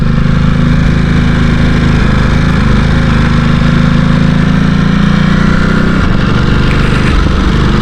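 A loud, close Ducati Supersport S motorcycle on the overrun thrums and burbles steadily, the exhaust note rough and throbbing, with a slight shift in tone toward the end.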